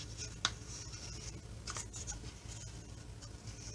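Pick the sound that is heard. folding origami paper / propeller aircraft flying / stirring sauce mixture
folding origami paper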